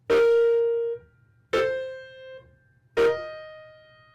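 Three piano chords struck one after another, each fading with a single high note left ringing a moment before the next.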